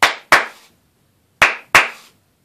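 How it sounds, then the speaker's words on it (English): Two pairs of sharp hand claps, close and loud, used to switch an Arduino-built light clapper; each pair is quick with a short gap between, and a silent pause separates the pairs. "If I clap twice, it does."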